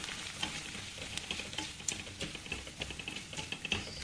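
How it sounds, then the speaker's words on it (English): Coconut, asafoetida and sambar powder fry in oil with a close, crackling sizzle and busy ticking pops, a spoon scraping through now and then. "just for a minute or 2 you can fry this"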